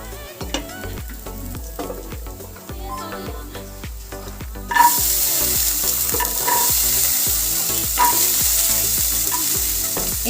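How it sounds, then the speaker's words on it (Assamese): Green peas frying in a little oil in a pan for matar paratha, a constant sizzle with repeated scraping and tapping of a spatula as they are stirred, loud and close with no talk. "এতিয়া আমি এইখিনি অলপ সময়ৰ বাবে ভাজি ল'ম।"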